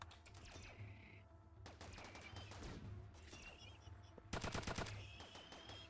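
RimWorld colonists and defensive turrets fire on attacking robots, the gunfire coming in rapid, clattering bursts that are faint and distant, repeating in quick volleys with a denser spray near the end.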